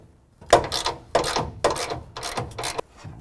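A hand ratchet clicks in quick bursts while removing rear bumper fasteners on a 2017 Ford Raptor, about five short rattling strokes in an uneven rhythm, close and clear.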